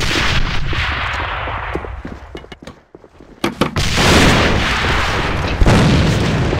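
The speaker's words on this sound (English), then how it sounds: "Grenade!" A loud grenade explosion in the shooter game AVA, a heavy booming roar that fades, then a few sharp cracks of gunfire and another sustained thunderous blast, loud and close.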